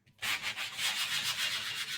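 Sandpaper is rubbed hard by hand over an embossed paper card in quick, steady back-and-forth strokes, close and fairly faint, with a rhythmic scratchy hiss and no talking.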